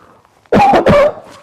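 Two sharp coughs in quick succession, close and loud, from otherwise near silence.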